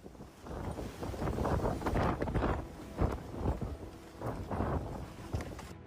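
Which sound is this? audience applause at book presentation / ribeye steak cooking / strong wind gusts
strong wind gusts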